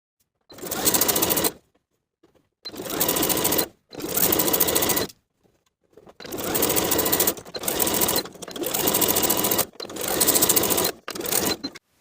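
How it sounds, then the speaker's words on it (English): A sewing machine runs in several steady bursts separated by short pauses while stitching a cuff onto a hoodie sleeve with a 3/8 inch seam allowance, loud and close with no talking. "Sew the cuff to the bottom of the sleeve with a 3/8 inch seam allowance and finish the raw edges."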